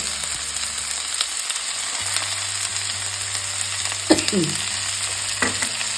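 Ginger, onion, shallots and curry leaves sizzle and fry in a pan for pork varattiyathu, a steady crackling hiss with occasional stirring scrapes and clinks, no voices.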